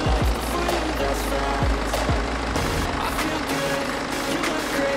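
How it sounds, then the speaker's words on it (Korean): A BMW 5 Series G30 520d xDrive diesel engine idles with a steady, rumbling drone, close and constant, with a few faint knocks and clicks mixed in. "엔진 소리 일정하네요."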